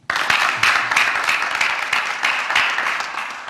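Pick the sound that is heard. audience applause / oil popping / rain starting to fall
audience applause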